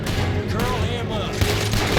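Rapid gunfire from a Red Dead Redemption 2 shootout crackles in quick bursts while shouted voices overlap the shots throughout the short exchange.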